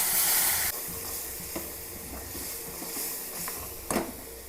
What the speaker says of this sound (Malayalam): പച്ചമുളകാണ് ഒപ്പം മല്ലിപ്പൊടിയും മഞ്ഞൾപ്പൊടിയും അല്പം മുളക് പൊടിയും കൂടിയാണ് ചൂടുവെള്ളം ഒഴിച്ചു കൊടുക്കാം